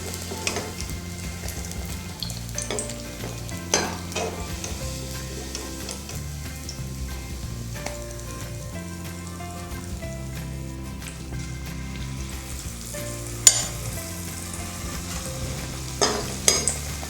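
Kandarappam batter frying in a small amount of oil in a wide kadai, a steady close sizzle with occasional light clicks and scrapes of stirring, no one talking.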